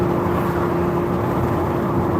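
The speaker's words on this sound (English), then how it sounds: "Nice little exhaust note for you." A car's exhaust drones loud and steady from up close, with a constant low rumble and a sustained tone on top and no pauses.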